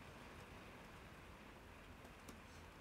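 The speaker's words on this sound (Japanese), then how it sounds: "雨の音が急に来ました。" Sudden rainy-season rain falling steadily, a dense even hiss of downpour with no voices, constant in loudness throughout.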